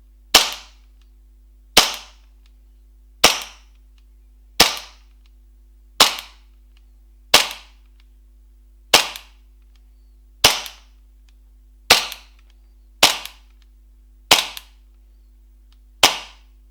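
Golden Eagle hi-capa gel blaster fired twelve times through a chronograph, each shot a sharp, loud crack at a steady pace of roughly one every second and a half, with quiet gaps between.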